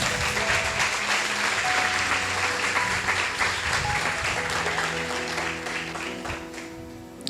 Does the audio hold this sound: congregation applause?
yes